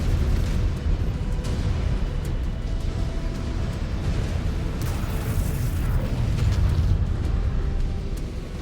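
A mech blows up in MechWarrior 5: Clans, a sustained heavy rumbling explosion roar that fills the scene, loud and continuous with no talking.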